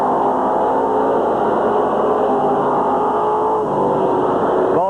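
Dirt track race cars roaring around Midvale Speedway in 1986, a dense, continuous engine drone with shifting pitches as several cars run together, loud and steady throughout, with a rising rev near the end.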